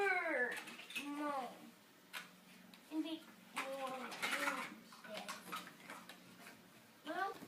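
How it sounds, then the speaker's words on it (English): Short chirping bird calls repeat through the scene, close and moderately loud, with a voice and other household sounds mixed in. "They're birds."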